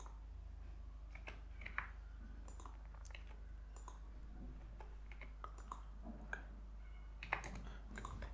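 Numbers being typed into an Excel spreadsheet on a computer keyboard: scattered, irregular clicks of keys and taps close by, quiet and alone over a low steady hum.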